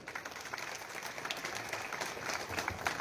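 A large crowd at an outdoor Nationalist Congress Party political rally in Indapur claps steadily, a continuous dense patter of many hands that swells slightly toward the end and is heard from some distance.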